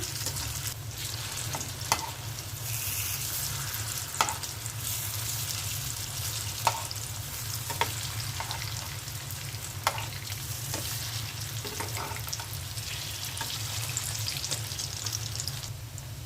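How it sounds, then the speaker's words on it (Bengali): Cauliflower fritters fry in hot oil with a continuous close sizzle and bubbling, broken by occasional clicks and taps from turning them in the pan, and no voices. "ফুলকপির বড়াটা উল্টে দিচ্ছি।"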